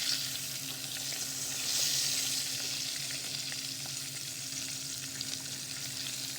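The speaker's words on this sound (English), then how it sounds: "And this is just a pan fry." A breaded burger steak shallow pan-frying in fat, giving a continuous dense crackling sizzle with faint scattered pops, steady and close throughout with no voices.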